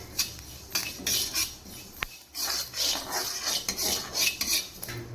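Sesame seeds roasting in a pan for black urad dal idli powder are stirred continuously, giving close, repeated scraping and rattling strokes of a utensil against the pan in an uneven rhythm, with one sharp clink midway and no talking.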